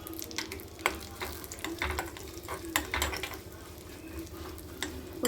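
Grated coconut powder frying in a pan for pumpkin payasam, with a steady close sizzle broken by light ticks and scrapes of stirring against the pan, and no voices.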